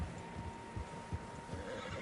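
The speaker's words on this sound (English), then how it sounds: "Horses, quite a few of them." Horses in Red Dead Redemption 2 whinnying and neighing in several quiet bursts, with soft hoof clip-clops underneath, set in an open outdoor game scene with no talking.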